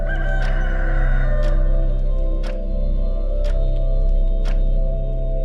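A video game rooster crows loudly and repeatedly, several drawn-out cock-a-doodle-doo calls over a sustained droning musical background.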